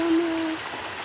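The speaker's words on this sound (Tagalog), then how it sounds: "Ito yung sapa oh." A small creek on the way to a rural farm field gives a steady, fairly loud wash of flowing water close by. A brief hum opens the moment, and no one talks.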